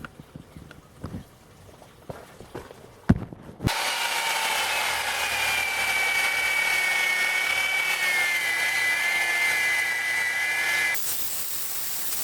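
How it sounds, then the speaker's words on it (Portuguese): An electric drill works on a handmade luxury knife: a few sharp knocks, then a sustained, fairly loud motor whine for about seven seconds before it winds down. "a furadeira foi feita para fazer força para frente"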